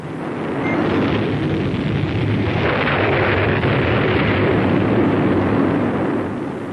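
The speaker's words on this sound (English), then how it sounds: "The eruption of Vesuvius." Eruption of Vesuvius rendered as a continuous deep roaring rumble, loud and dense, swelling in and holding steady like a sustained blast before easing slightly at the end.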